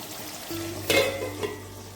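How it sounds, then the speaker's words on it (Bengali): Pointed gourd malai curry being stirred in a pan, a short scrape of the spoon with a faint sizzle under it, one brief clatter near the middle and a softer one after. "আর একবার নাড়িয়ে দেবো"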